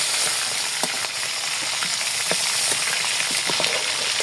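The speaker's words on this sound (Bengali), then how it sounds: "মাংসটা না একদম ভালো মতো একটু ভেজে নিলাম, নাহলে শক্ত শক্ত হয়ে গেছে।" Meat fries in a pan, a loud, steady sizzle with small crackles and pops throughout, close up and with no talking.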